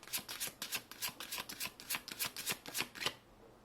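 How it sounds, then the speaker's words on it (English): Close-up shuffling of tarot cards in quick riffling bursts, about a dozen rhythmic snaps in a row, then stopping abruptly. "I'm gonna shuffle this on the side"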